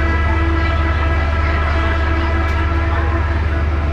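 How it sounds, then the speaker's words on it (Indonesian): KA Batara Kresna executive train from Wonogiri to Jogja rolling along with a steady low rumble while its horn sounds one long sustained blast, loud and continuous throughout. "keretanya tetap jalan dengan membunyikan klakson panjang"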